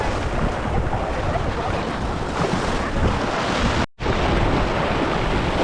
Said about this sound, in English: as another wave gently reaches the old walls